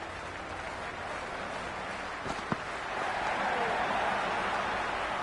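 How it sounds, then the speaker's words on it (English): Dense stadium crowd roar from a cricket video game on PS4, a steady broadband wash that swells slightly in the second half, with a brief sharp knock near the middle and faint talk underneath. "this crowd is already making it hard for me to be heard."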